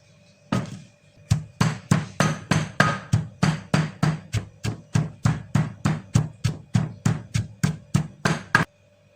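Peanuts mixed with white and black sesame being pounded in a mortar with a pestle, a loud, close series of about twenty evenly spaced heavy thuds at a steady rhythm.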